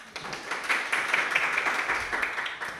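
Studio audience applauding a guest, a Birmingham-trained geneticist and biologist, on a Spanish-language science and technology talk show; steady, even clapping fills the whole stretch at moderate loudness with no voices over it.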